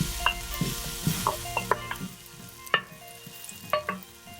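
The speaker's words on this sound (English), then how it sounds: "we stir until the apples have browned a little" Apples stirred and frying in a pan for Viking porridge, a low sizzle broken by scattered scrapes and clinks of the spoon against the pan, close and moderately quiet, with no talking.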